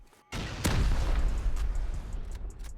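A sudden deep boom of a rocket explosion in the video game Rust erupts, followed by a rumbling, crackling blast that lingers and slowly fades, with no talking.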